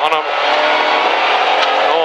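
A rally car engine runs steadily inside the cabin during a stage of the Neste Jari-Pekka Ralli in Heinola, a loud continuous drone with a co-driver talking over it.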